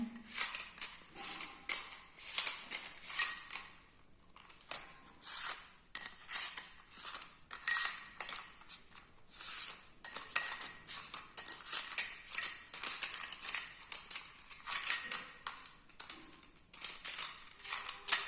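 Rapid rattling and shuffling of stiff tarot cards inside a container, in repeated bursts with short pauses, close and fairly loud, no talking.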